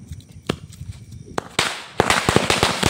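Diwali firecrackers lit with a lighter go off outdoors in a quick series of sharp loud cracks and bangs, building to a dense crackling burst near the end.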